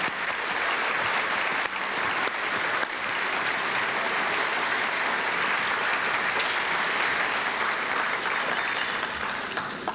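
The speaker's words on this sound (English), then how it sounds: "Let's give them a big round of applause, and let's continue until they're off the stage." A large commencement crowd applauding gold tassel recipients, a dense, sustained roar of clapping from many hands that stays loud and steady for the whole stretch.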